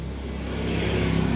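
A vehicle or motorbike engine approaches from behind on a road, a steady mid-pitched rumble growing slightly louder and closer over a brief moment, with no voices.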